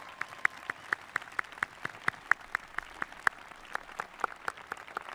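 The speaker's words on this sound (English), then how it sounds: "And if you can clap extra loud for the proud parents, caregivers, and guardians and family that are here today." Audience at a college commencement ceremony applauding families and parents, heard as steady, fairly quiet clapping with evenly spaced sharp claps standing out, no voices over it.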